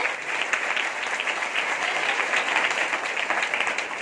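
An audience at a direct-selling gathering claps vigorously and without pause, a full, even wash of applause holding steady from start to finish.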